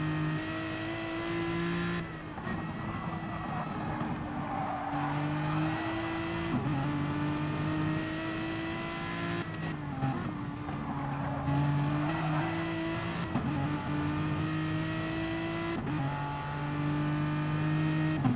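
GT3 race cars, including an Aston Martin, lap Monza in a sim racing game, with a continuous loud engine drone and repeated gear-shift pitch steps under faint tire noise.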